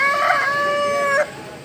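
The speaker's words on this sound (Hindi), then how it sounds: "ये देसी मुर्गियाँ हैं" Desi chickens at a street food market in Islamabad, with a rooster letting out one loud, clear crow that holds steady for about a second before breaking off into quieter background ambience.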